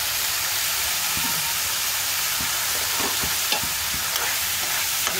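Shrimp fry in a pan for a village-style home-cooked dish, giving a constant loud sizzle and hiss with occasional stirring clinks and scrapes.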